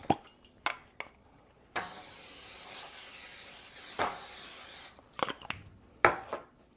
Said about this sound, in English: I'm going to put it in this freeform pan, but I am going to spray that just a little bit.